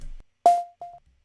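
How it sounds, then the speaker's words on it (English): A sine-wave synth pluck made in Logic Pro X, left unprocessed, plays as two clean, short tonal notes with a sharp attack and quick decay, the first stronger, alone in near silence. "Here we have a pluck sound."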